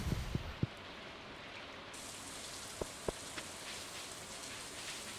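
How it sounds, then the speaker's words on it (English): Steady rain patters down in a continuous wash of noise, with a few louder drips landing close by. "Oh, sounds like it's raining."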